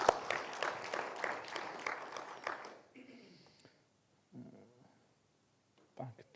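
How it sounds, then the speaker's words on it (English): An audience at a tech talk applauds in a brief burst of dense clapping that fades after about three seconds, leaving a quieter room with faint rustles and a short voice at the end. "Give Andy a big round of applause."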